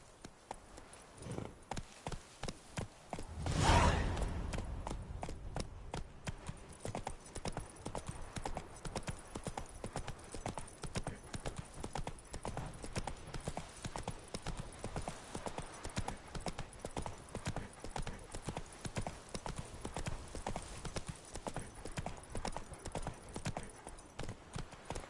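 In The Witcher 3: Wild Hunt, a ridden horse's hooves clatter in a brisk, regular gait for the whole stretch, with a louder rushing burst early on before the steady hoofbeats continue alone.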